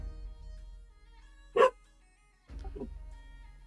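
One short dog bark cuts sharply out of a quiet background, followed about a second later by a softer low yip amid faint room hum.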